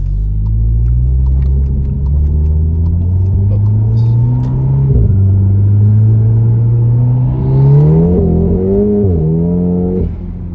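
A VW Golf R Mk7 with a stage 3 IS38 hybrid turbo accelerates hard on a greasy road. The loud, close engine note climbs steadily through several gear changes, with no voices.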